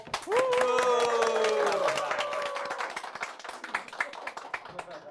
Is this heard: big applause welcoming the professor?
yes